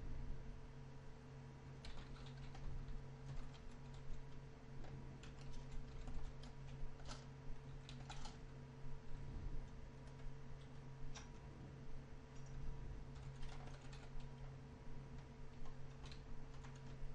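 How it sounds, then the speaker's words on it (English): Scattered keystrokes sound on a computer keyboard while network router settings are typed in. The clicks are faint and sparse over a steady electrical hum. "I wanted to actually keep typing to show you that."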